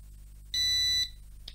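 An Aukey MoHawk RC quadcopter toy drone emits a single sustained electronic beep lasting about half a second, close and clear over a faint low hum, with no voices.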